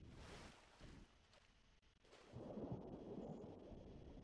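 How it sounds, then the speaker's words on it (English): In the survival game Planet Nomads, rain hisses steadily in a tundra area, and a low rumble of thunder swells up and rolls on through the second half. "It's still raining."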